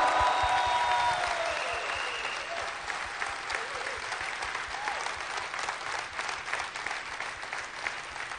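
An audience at a business seminar breaks into loud, dense applause that starts strong and gradually thins to a looser patter of claps, with a few voices faintly audible in the crowd.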